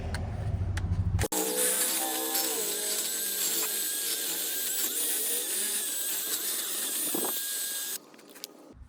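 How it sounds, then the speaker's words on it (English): Drill-powered wire brush scrubbing rust and corrosion off the hub mating surface of a 2021-2026 Nissan Pathfinder during front brake work, a loud, steady high whirring grind that starts abruptly, runs several seconds, then cuts off. "next we want to use a wire brush. You can use a drill powered one or a manual one."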